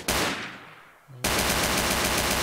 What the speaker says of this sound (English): What's with the shooting?